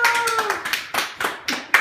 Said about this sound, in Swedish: Applåder!